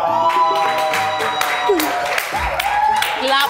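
Studio audience clapping for a round winner on a fun comedy show, a dense patter of claps mixed with overlapping voices and laughter throughout.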